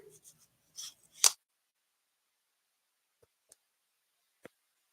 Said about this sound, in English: Let me use these scissors and open this little box.